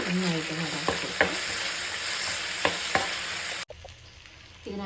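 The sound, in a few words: stirring tomato sauce into frying onion rice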